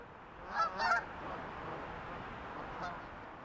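Geese honk at dawn, cackling goose and Canada geese among them, in a few short nasal calls near the start and one more later, set against a steady broadband outdoor wash.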